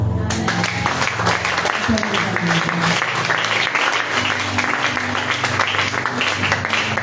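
A church congregation bursts into dense applause and cheering, a loud continuous wash of many hands clapping with voices shouting over it, filling the whole stretch without pause.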